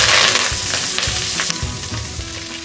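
Drumstick leaves fry in hot oil in a pan for munagaku chutney, giving a steady, close, loud sizzle with bubbly crackle and occasional stirring scrapes throughout, with no talking.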